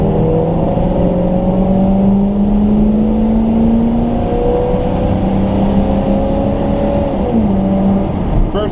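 A 2020 Chevrolet Duramax diesel pickup accelerates hard in first gear, its engine note rising steadily in a loud, continuous drone over about eight seconds before easing at the shift.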